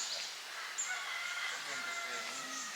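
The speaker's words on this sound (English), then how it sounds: "You can hear the roosters in the background." Faint roosters crow in the distance at a Karen hill tribe village in northern Thailand, a few thin, drawn-out calls over quiet outdoor ambience.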